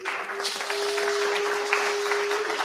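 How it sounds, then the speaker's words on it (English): A crowd applauds at a birthday tribute gathering, a short steady patter of clapping with a sustained tone running underneath. "Give him a round of applause."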